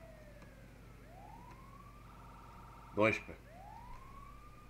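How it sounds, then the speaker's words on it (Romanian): Ambulance siren from GTA V wailing in long rising and falling sweeps at moderate distance, under game ambience, with a man's short spoken count over it. "O veni și ambulanța, dar nu ăștia."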